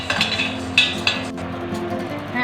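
Pepper, cumin and fenugreek dry-roasting in a pan for Tirunelveli idi sambar, with soft scraping stirs and several sharp clinks of a utensil against the pan, close by, over a low steady hiss.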